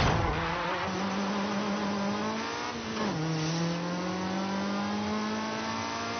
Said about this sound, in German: Wir haben hier einen quirligen Vierzylinder-Saugermotor.